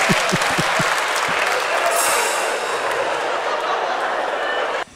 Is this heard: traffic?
no